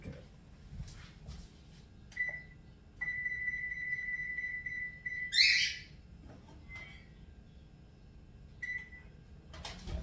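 An oven control panel beeping while being set to preheat: a short electronic tone, then a longer sustained beep, a brief brighter chirp and another short beep, fairly clear over quiet room noise with no talking.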